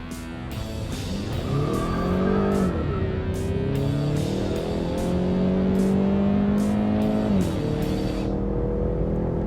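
A Ford Mustang 2.3 EcoBoost accelerating hard, engine note climbing steadily through the gears with brief dips at each shift, loud and close, no talking.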